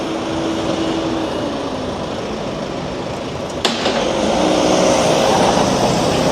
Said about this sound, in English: Now watch the traffic go by.